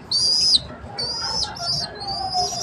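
Pigeons give a few soft coos and chirps, close and fairly faint, with a brief flutter at the start and no talking.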